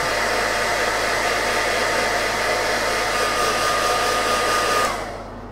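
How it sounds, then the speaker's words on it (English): A hair dryer blows loudly and steadily up close, a constant whooshing hum that cuts off abruptly near the end. "using the hairdryer just to speed things up"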